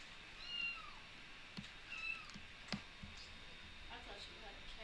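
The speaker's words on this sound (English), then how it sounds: "I thought you had a cat in your car." A cat meows faintly twice, a few seconds apart, under a low hum of background noise.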